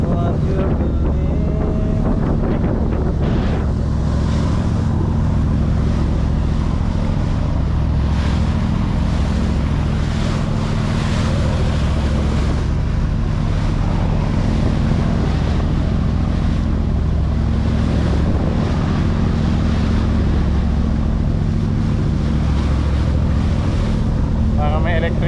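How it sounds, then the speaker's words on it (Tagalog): Steady wind roars across a microphone during a boat ride at sea, a constant loud rushing like an electric fan with a low rumble of the boat underneath, continuous throughout. "Parang may electric fan eh. Mahangin."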